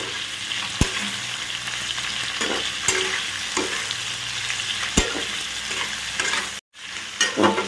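Chopped onions and capsicum are stir-fried in a pan for chilli chicken noodles, giving a continuous close sizzle. Sharp spatula knocks and scrapes come every couple of seconds, and near the end there is a brief silent gap.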